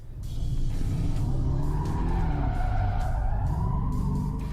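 A car does a burnout with a steady engine roar and a long, sustained tire squeal rising and wavering in pitch, loud and close, with no talking.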